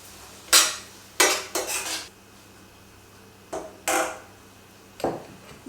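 Cardamom, cloves and cumin seeds are stirred in a pan, making several sharp scraping clinks of a utensil against the metal, in short separate strokes at moderate volume.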